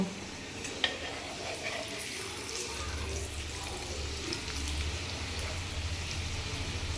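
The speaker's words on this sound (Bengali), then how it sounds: "এবার পরোটাগুলো আমরা ভেজে নেব।" Cauliflower parathas fry in hot oil in a pan with a steady, close crackling sizzle throughout, joined by a low hum partway through.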